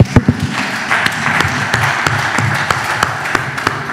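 A congregation claps in a church service, a dense steady patter of many hands with a few sharper near claps, loud and continuous without speech.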